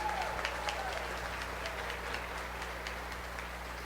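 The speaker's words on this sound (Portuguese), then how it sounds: "Vamos dar uma salva de palmas para a nossa igreja?" Audience applause at a Catholic retreat, steady continuous clapping from a large crowd heard from some distance, even in level throughout.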